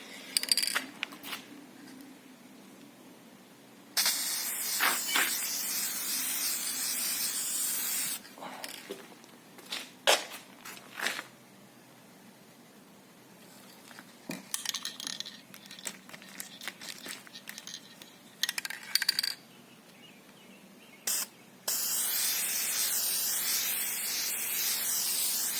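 Spray can applying a second coat to a car headlight during a restoration outdoors: several bursts of hissing spray, a few seconds each, with quiet gaps and small clicks between them.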